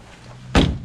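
A car door on a rusty rear-wheel-drive Mitsubishi Lancer A171 being stripped for bodywork shuts with a single sharp, close slam after a quiet lead-in.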